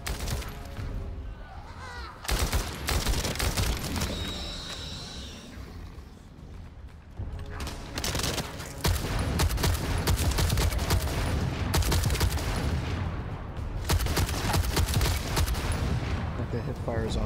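Rapid rifle hip fire in The First Descendant, dense overlapping gunshot bursts in loud clusters with brief lulls, mixed with in-game voice chatter and combat effects throughout.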